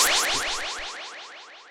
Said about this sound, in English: I have this little sort of like laser kind of sound